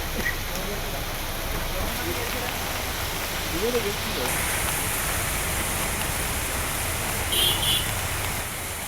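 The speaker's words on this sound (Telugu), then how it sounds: "తదితర ప్రాంతాల్లో భారీ వర్షం కురుస్తోంది" Heavy rain pouring down steadily in Hyderabad, a dense, even hiss of water hitting surfaces, continuous and close throughout.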